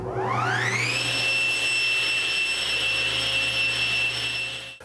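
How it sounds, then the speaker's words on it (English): A Laguna Fusion F2 table saw motor starts up, its whine rising over about a second to a steady high-pitched hum, then running loud and constant before starting to drop off at the very end. "Let's turn the saw on, see what it sounds like."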